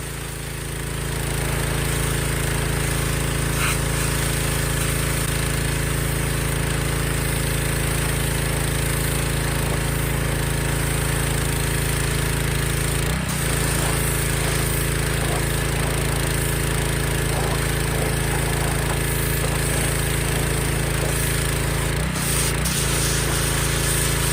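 A pressure washer spraying firewood to clean off mold, a steady loud continuous engine-driven drone and hiss running throughout with a couple of brief knocks near the end.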